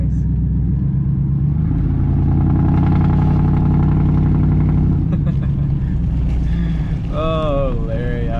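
A loud ATV engine with a quad-tip exhaust revs and roars continuously, rising and falling in pitch, close up, with a rough, heavy exhaust note throughout.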